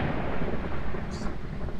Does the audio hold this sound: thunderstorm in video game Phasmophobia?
yes